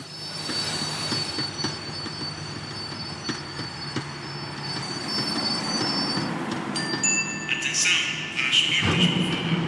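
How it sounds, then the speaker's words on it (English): Tram wheels squealing and rumbling as the tram slows down inside the Max Payne video game, a steady loud rail drone with metallic screeches rising near the end. "The tram was slowing down, and I'd only just gotten on board."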